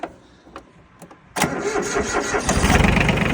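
A Yanmar 155 tractor engine cranks briefly, catches and settles into a loud, rough diesel idle close up.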